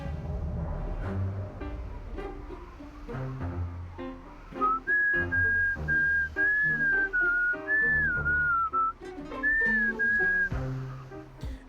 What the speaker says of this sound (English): A strained, tuneless whistle drifts over the cemetery.